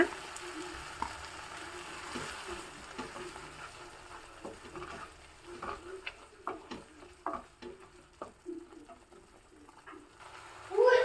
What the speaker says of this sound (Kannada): ಇದು ಹಸಿ ವಾಸನೆ ಹೋಗೋವರೆಗೂ ಚೆನ್ನಾಗಿ ಫ್ರೈ ಆಗಬೇಕು